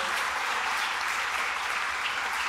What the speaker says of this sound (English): How about a round of applause for our panel?